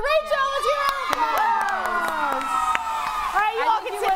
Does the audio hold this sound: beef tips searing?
no